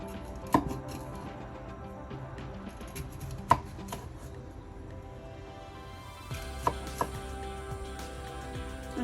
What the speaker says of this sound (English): If you think they're really big, you can always cut them like this way.